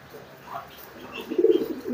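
Domestic pigeons coo in a loft, a soft low murmuring that swells toward the end, fairly close with faint background chirps and no speech.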